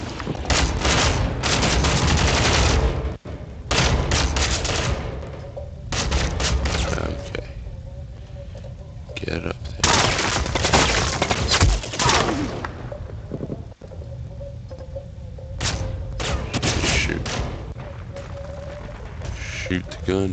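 Gunfire in the online shooter game Ghost Recon Online comes as loud, dense bursts of rapid automatic shots separated by short pauses, with a person talking over parts of the action.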